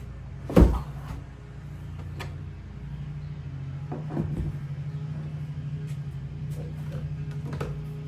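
A sharp plastic clunk as the seat comes off a jet ski and the fire extinguisher underneath is handled, followed by a few softer knocks and rattles over a low steady hum.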